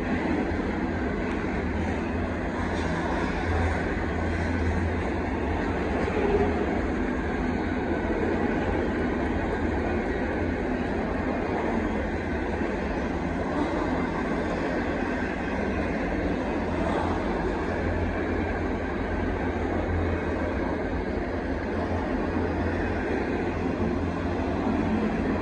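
A continuous heavy rumble and rattling roar of a southbound BNSF intermodal freight train passing in Temple, Texas, steady and loud throughout with no pauses.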